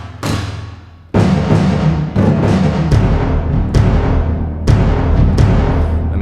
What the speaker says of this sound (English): I am a huge proponent of storm drums.